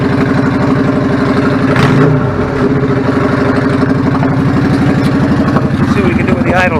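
A warmed-up 1999 Yamaha V-Star 650 Classic motorcycle with a clogged pilot/idle jet runs loud and close, a steady throbbing idle with a brief rise in revs partway through.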